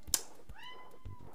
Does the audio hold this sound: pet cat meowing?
yes